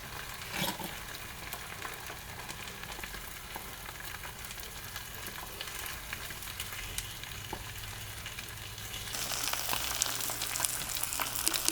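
Eggs sizzle and crackle steadily in a frying pan, seasoned with salt, black pepper and granulated garlic, with a soft continuous hiss that swells slightly toward the end.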